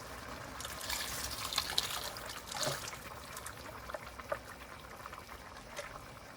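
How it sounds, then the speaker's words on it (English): Water pours and trickles steadily into a soup pot of lentils and broth, a soft continuous splashing that swells briefly in the middle, close by with no talking. "I'm going to add some water"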